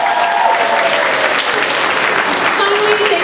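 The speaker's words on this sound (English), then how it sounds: "Let's give parents a round of applause." Loud sustained applause from a large audience at a high school Christmas choir concert, a dense steady wash of clapping with a few voices calling out within it.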